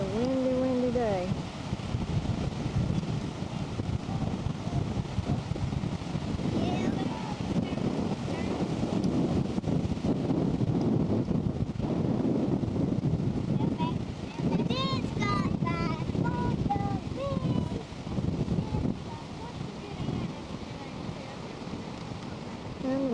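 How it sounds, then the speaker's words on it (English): Strong wind buffets the microphone continuously on a beach, with surf rolling in underneath and faint voices now and then in the background. "The wind's still blowing."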